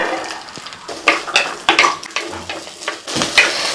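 Ginger, garlic and shallots go into hot groundnut oil in a pan for a soya gravy, giving a light crackling fry broken by scraping stirs and a few clinks of utensil against pan, close and fairly loud.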